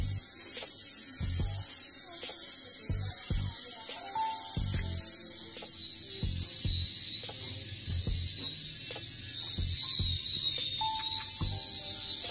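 Flawless electric facial hair remover running against the skin, a faint high steady whine with soft, uneven low clicks and bumps as it moves.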